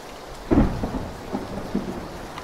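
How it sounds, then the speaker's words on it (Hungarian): Rain and rolling thunder in the PUBG video game, a steady hiss of rainfall with a loud thunder crack followed by several lower rumbles, no voices over it. "Olyan megnyugtató ez az eső."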